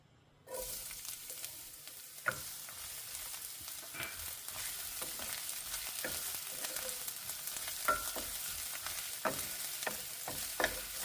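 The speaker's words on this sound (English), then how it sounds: "In a preheated pan, I'm going to add some cooking oil, maybe like 2 tablespoons, and now I'm going to saute my onion." Chopped onion sautéing in about two tablespoons of cooking oil in a preheated pan for chicken tikka masala, giving a steady close sizzle with occasional sharp crackles and stirring taps throughout.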